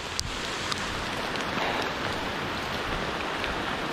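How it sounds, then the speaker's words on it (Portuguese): A heavy rain downpour pours steadily outdoors in a dense, unbroken hiss with a few sharper drop hits, loud and close, with no voices. "Chuvarada."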